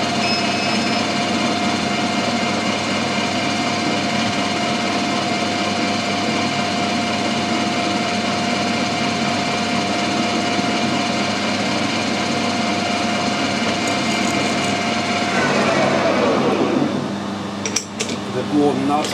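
Lathe running steadily while the tool touches off at 20 mm on a camera lens mount part, a constant loud mechanical whine with tonal hum, changing to a rougher cutting and scraping texture near the end.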